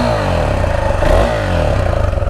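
A new motorcycle on its stock exhaust pulls away with a fairly quiet, steady mid-pitched engine drone that swells slightly as it accelerates, close by.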